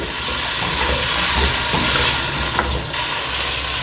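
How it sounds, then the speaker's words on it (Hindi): Green peas, about a cup, frying in a pan with finely chopped potatoes for matar chawal, giving a steady, close, even hiss and sizzle with light stirring throughout. "एक कप मटर हैं वो इसमें मैं डाल रही हूँ। इनको अब आपने अच्छे से फ्राई करना है।"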